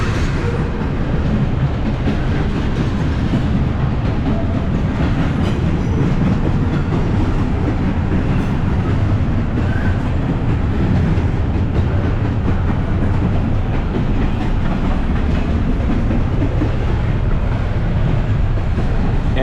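Heavy, continuous rumble of a Norfolk Southern freight train passing nearby in Dalton, Georgia, wheels clattering steadily over the tracks the whole time.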